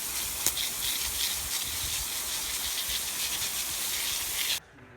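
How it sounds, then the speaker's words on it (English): Garden hose spraying water over an alloy wheel, a steady loud broadband hiss running for several seconds and then cutting off abruptly near the end. "I'm going to roll it over to the hose and spray it off"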